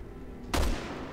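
A single sharp, loud gunshot cracks out in the co-op survival-horror video game Resident Evil 6 against a low background hum, then fades quickly.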